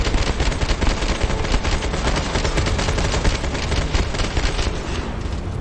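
Sustained rapid gunfire from a gun in the sci-fi video game Starfield, a dense unbroken rattle of shots filling the whole stretch at steady loudness.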